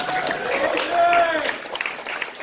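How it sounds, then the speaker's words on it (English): Crowd applause for a guest standing up in the audience at a college launch event, a dense wash of clapping and cheering mixed with voices and whoops, steady and fairly loud before thinning toward the end. "Everybody give Adrian a round of applause."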